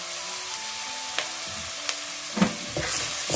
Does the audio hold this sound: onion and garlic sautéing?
yes